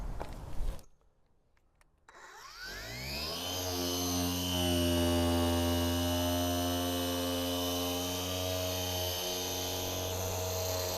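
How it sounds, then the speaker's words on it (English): A machine polisher runs on a car headlight, starting with a brief clatter before spinning up into a loud, steady, tonal whirring hum that holds constant to the end. "So I'm using my machine polisher to get the job done."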